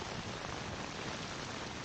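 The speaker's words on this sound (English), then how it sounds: "And this rain is loud too." Heavy rain pouring steadily in a wartime TV drama scene, a dense, loud, continuous hiss that fills the short clip on its own before cutting off abruptly.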